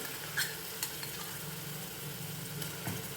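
Green chillies sautéed in a pan for a Marathi horse gram (kulith) and onion dish, a soft steady sizzle with a few scraping stirs of a spoon against the pan, close by and without talk.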